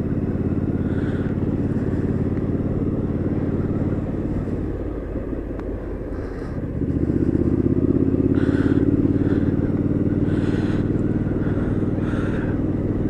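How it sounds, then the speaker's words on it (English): A 2017 Triumph Street Scrambler twin-cylinder motorcycle engine drones steadily throughout, dipping briefly in the middle before swelling louder again with a throaty rumble. "just listen to that lovely Triumph. It's a classic twin growl"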